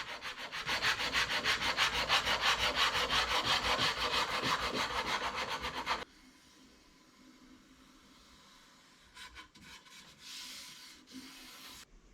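Rhythmic rasping strokes shape and smooth a laminated wooden neck for an electric resonator guitar, loud and steady for about six seconds before a few faint scrapes and light handling sounds, with no talking.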